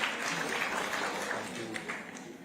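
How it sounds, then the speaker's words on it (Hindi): An audience at an education conclave claps for special guests welcomed onstage, a moderate wash of applause that tapers slightly, with faint murmuring beneath it. "एक बार जोरदार तालियां हो जाएं हमारे खास मेहमानों के लिए।"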